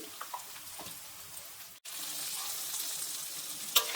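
Asafoetida hits hot oil in a pan for pulihora, giving a soft, steady sizzle that briefly cuts out and then resumes slightly louder, faint and close with no talking.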